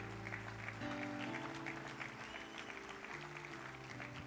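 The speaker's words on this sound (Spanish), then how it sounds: "Denle un aplauso, por favor." A church congregation applauds for a pastor during a Spanish-language service, a soft, continuous patter of clapping heard under sustained organ or keyboard chords, moderately distant.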